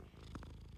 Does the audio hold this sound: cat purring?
yes